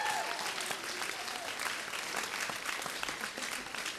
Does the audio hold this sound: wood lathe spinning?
no